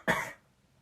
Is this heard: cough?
yes